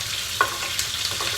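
Onions sizzle in a hot pan, a short burst of constant crackling hiss with a couple of light utensil clinks against the metal.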